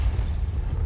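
Confringo blasting spell going off in Hogwarts Legacy, heard as a dense, sustained low rumble with a steady boom filling the whole short moment, loud and close.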